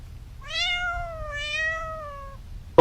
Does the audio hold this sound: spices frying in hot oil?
no